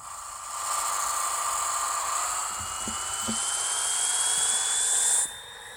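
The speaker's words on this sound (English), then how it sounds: "Let's put this on the dyno, because it says I have 928 horsepower." A tuned Honda S2000 engine in the Pixel Car Racer game runs on a dyno, a loud synthetic whine climbing steadily in pitch for about five seconds before cutting off abruptly.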